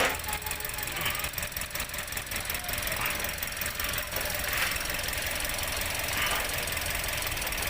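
Toyota Vios 1NR engine idling with a spark plug wire pulled off, a misfire check: a close, rough running drone with uneven knocking pulses and a faint squeal throughout.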